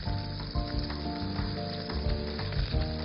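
Salmon sears in a hot frying pan, giving a continuous close sizzle and crackle with faint scraping and stirring, steady and loud throughout.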